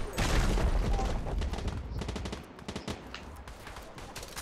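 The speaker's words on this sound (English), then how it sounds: "I'm gonna finish you off with a shotgun." Gunfire in a Fortnite Zero Build squads match, a loud dense burst of rapid shots at the start that thins into scattered sharper reports, with no talk.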